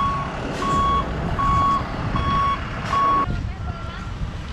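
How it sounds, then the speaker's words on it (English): Repeated reversing beeps from an Amazon delivery-area truck stuck in a snowy New York winter street, a steady series of about five loud electronic tones over rumbling engine noise and ambient traffic. "this truck has been sitting there for like 20 minutes trying to get through."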